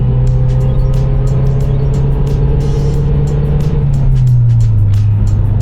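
A Mazdaspeed 3 with a new intake pulls slowly up toward 4,500 RPM, its loud close engine drone rising steadily in pitch before easing off near the end, with no voices.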